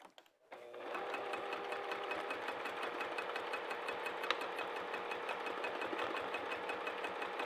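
A sewing machine stitching a quilt seam for a boxed corner runs in a fast, steady mechanical chatter throughout after a brief quiet start, close and even.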